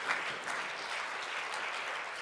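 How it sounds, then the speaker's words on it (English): Steady, dense applause from a conference audience honoring the event's organizers, a continuous wash of many hands clapping without pause at moderate distance. "we all need to applaud the group of people that put this together"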